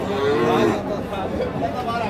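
A Friesian or crossbred heifer lowing once, close and clear, at the Raniganj cattle market, with a second softer moo and murmuring crowd chatter behind it.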